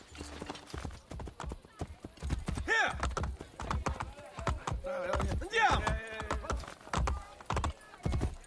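Rapid hoofbeats clatter in a quick galloping rhythm, with a horse whinnying partway through, loud and close against a game-like backdrop in Assassin's Creed Brotherhood.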